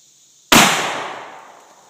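A single blast from a 12 gauge shotgun loaded with a 3-inch Magnum shell, one sharp, loud report from near silence followed by a long rolling decay.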